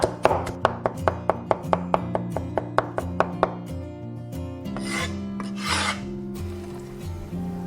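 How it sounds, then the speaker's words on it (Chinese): A knife chops garlic into fine mince on a board, a quick run of about fifteen sharp, evenly spaced strikes followed by softer scraping and gathering sounds, with music playing underneath throughout. "然后切成蒜末"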